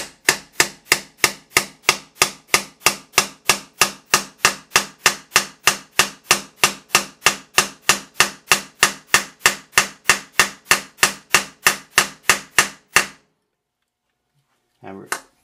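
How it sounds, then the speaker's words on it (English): A ball peen hammer drives a Faber metric bushing into a guitar body with a long, steady run of about thirty sharp, close metallic taps at an even, brisk rhythm, then stops abruptly into silence. "Get my trusty ball peen hammer here."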